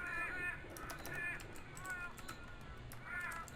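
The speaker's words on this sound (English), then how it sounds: "The crows were not silent." Crows caw in a spooky video game, Haunted Cities Volume 4, with several harsh calls spread across the clip over a steady background hiss.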